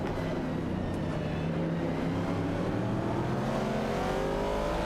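Several race cars from an AI-driven racing video game, including a Ford Falcon and a Ford Mustang Boss battling for position, with steady engine drone and rising revs throughout, no talking.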